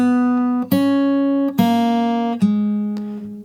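Acoustic guitar playing the opening bar of a theme, four slowly picked notes each left ringing and fading, close and clear with no other sound.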